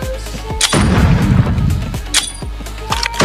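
Grenade blasts in the ScarFall 2.0 mobile shooter on the Mumbai map: a deep rumbling explosion swells in the middle, framed by several sharp gunshot cracks, loud and close.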